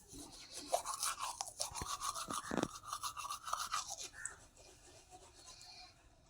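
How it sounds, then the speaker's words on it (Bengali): A toothbrush scrubs teeth up close in quick, rhythmic back-and-forth strokes with a wet, bristly rasp. The brushing runs steadily for several seconds and then slows and softens toward the end. "ব্রাশটা করে নিই।"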